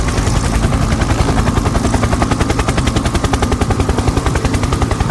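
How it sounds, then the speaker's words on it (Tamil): A loud, steady helicopter with fast rhythmic rotor chopping filling the whole clip, close and continuous. "பாரு, ஹெலிகாப்டர்."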